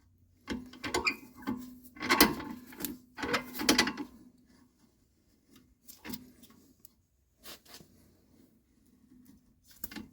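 A clamp is tightened to press the caliper piston back on a 2001 Jaguar XK8, giving clicking, ratcheting mechanical bursts that thin out into sparse, fainter clicks with gaps between them.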